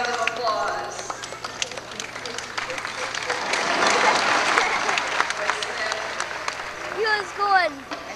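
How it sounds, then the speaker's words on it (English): Audience applause at a sea lion show, a broad crowd clapping that swells in the middle, heard alongside a voice talking over it and some animal barks near the end. "Hop on his seat and give himself a round of applause."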